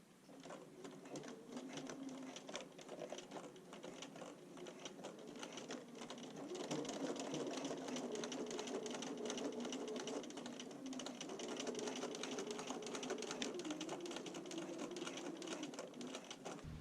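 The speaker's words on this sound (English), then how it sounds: "and then sew down here with a straight stitch." A sewing machine straight stitching to attach hooks while finishing a handmade bra makes a fairly faint, continuous rapid ticking hum that rises slightly midway and runs steadily throughout.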